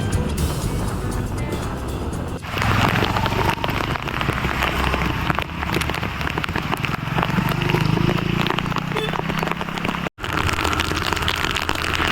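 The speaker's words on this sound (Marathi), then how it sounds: "थोडंच वेळ पाऊससुद्धा सुरू होत होता" Heavy, steady monsoon rain pours down continuously during a ride through the Saphale and Waghoba ghats in Palghar, Maharashtra, a dense roar of drops drumming on surfaces, with a low engine rumble underneath.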